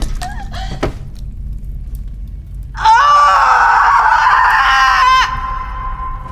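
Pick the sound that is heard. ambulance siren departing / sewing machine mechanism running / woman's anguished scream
woman's anguished scream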